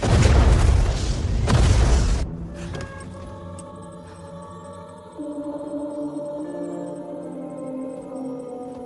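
A missile explosion in a Hindi war film lands as a huge, close boom with a roaring blast that rumbles for about two seconds, then cuts to a quiet, tense musical score.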